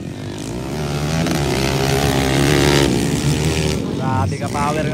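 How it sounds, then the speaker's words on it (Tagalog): Underbone motorcycles in the final heat of an open race roar past in a sustained, loud engine whine with rising and falling revs, close and continuous, while a commentator talks over them. "Grabe ka power ng mga motor oh."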